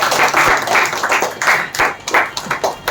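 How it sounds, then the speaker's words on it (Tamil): Live applause from a crowd welcoming a guest at an office opening ceremony, dense clapping in irregular bursts, fairly loud and close, with faint voices mixed in. "அவங்கள உங்க எல்லோட கைத்தட்டல வாழ்த்தி முதலாவது வர வைக்கிறேன்"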